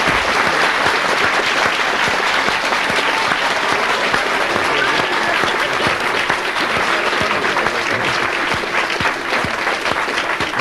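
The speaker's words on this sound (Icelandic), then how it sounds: "Við skulum gefa þeim gott klapp." An audience at a 1988 Icelandic quiz contest between teams from Hafnarfjörður and Reykjavík claps steadily, a dense, continuous round of applause that carries on at an even level throughout.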